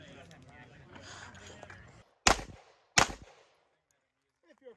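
Two sharp, loud pistol shots from a Walther PDP ring out about a second apart at an outdoor IDPA shooting match, following quieter background murmur and handling noise, with a faint click near the end.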